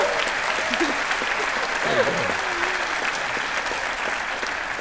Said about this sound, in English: give me that round of applause